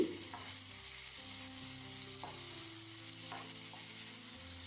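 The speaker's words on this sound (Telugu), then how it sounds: "ఇలా దోరగా ఫ్రై చేసుకున్న తర్వాత ఇందులోకి మీడియం సైజ్గా కట్ చేసిన టమాటా ముక్కలు వేసుకుని ఫ్రై చేసుకోవాలి" Tomato pieces frying in a pan with curry leaves give a steady, close sizzle that runs without pause, with a few faint clinks of stirring and no talking.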